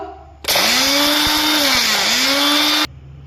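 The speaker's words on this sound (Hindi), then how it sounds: "तो ग्राइंड करते हैं इसको" Electric grinder grinding dry-roasted spices for a homemade digestive phaki, a loud steady motor whir starting abruptly, holding for over two seconds with slight pitch dips as the load shifts, then cutting off.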